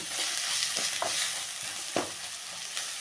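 Masala frying in a pan over low heat for a Kannada okra stir-fry, with steady close sizzling broken by a few sharp spatula scrapes and stirs.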